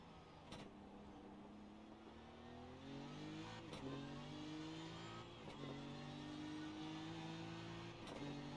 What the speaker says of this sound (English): A random upshift there.